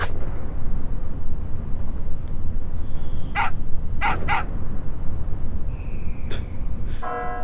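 A dog in the video game Final Fantasy VIII Remastered gives a few short, sharp barks, including a quick double bark, over a constant background rumble of game ambience, with brief tonal chimes in between.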